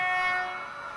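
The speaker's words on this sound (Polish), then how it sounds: "Spróbujemy jakąś trąbkę." A steady train horn blares continuously in a train simulator video game, loud and close, holding its tone for the full second with a slight fade toward the end.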